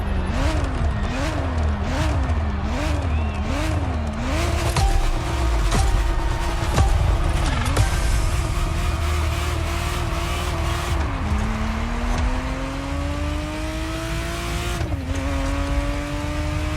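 A Ferrari Testarossa engine in the racing video game The Crew Motorfest revs loudly and continuously, climbing and dropping through repeated gear shifts, with occasional tire squeal.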